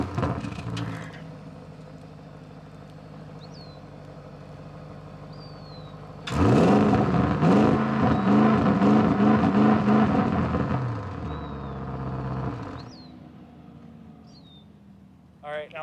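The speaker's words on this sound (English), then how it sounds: "So I'm gonna start them both up," A pair of 2021 Audi RS6 Avant V8s, one with the standard exhaust, idle low at first, then one fires up loudly and revs in several swelling bursts before settling back, with faint bird chirps in the background.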